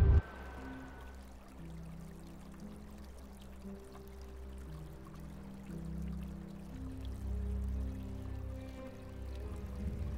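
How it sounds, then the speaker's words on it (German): A clear stream of water flowing steadily right beside a mountain hiking path, a continuous gentle rushing and pouring sound heard close by with no voices. "Klar und ruhig strömt das Wasser direkt neben dem Weg Richtung Tal"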